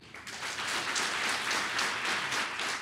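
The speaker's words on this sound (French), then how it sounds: "Debout, les populations ont applaudi" Crowd of residents applauding at a presidential tour stop in Aplahoué, a dense continuous wash of many hands clapping, moderately distant and steady, alone without talking.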